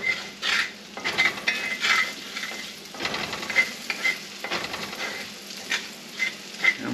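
Food browns in oil and butter in a pan, seasoned with salt and pepper, giving a continuous close sizzle with intermittent clinks and scrapes of a utensil against the pan.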